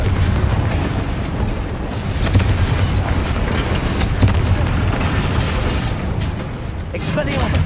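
Fiery Confringo spell blasts in Hogwarts Legacy combat, a dense continuous roar of booming bursts and crackle sustained throughout at high level, with game voices and effects mixed beneath.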